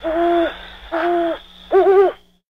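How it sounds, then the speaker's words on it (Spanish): An owl hooting three times in a steady sequence, each call a clear, loud, sustained tonal hoot, the last one wavering slightly, close and alone with no talking. "Búho"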